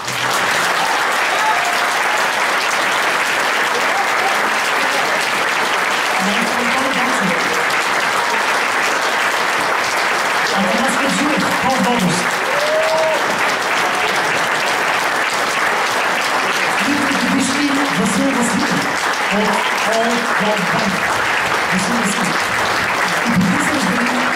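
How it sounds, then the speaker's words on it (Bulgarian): A large concert audience at a big band jazz anniversary show claps steadily and densely for the whole stretch, a continuous wash of applause with a few voices and shouts faintly mixed in. "Така че ръкопляскания за тези, които са да се знаят."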